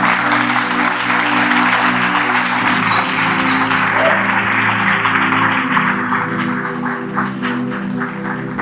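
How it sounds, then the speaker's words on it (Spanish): A church congregation gives the preacher a loud, sustained round of applause that fills the room, with steady music or organ tones held underneath throughout. "dele un fuerte aplauso al Señor"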